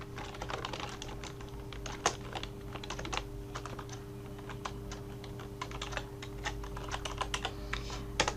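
Typing on a computer keyboard while entering text in Word: rapid, irregular clicks and clacks with occasional heavier key strikes, close and fairly quiet over a steady low hum, no talking.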